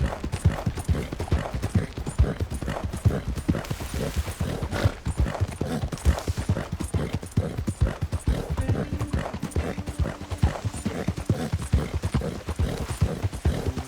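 Horse hooves clip-clop steadily in Red Dead Redemption 2, a loud, close, continuous rhythmic trot with dense even hoofbeats throughout and little else over them.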